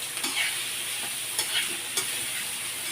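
Hotdog frying in a pan, giving a steady close sizzle with soft scraping stir strokes and a few light clicks of a utensil, with no voices.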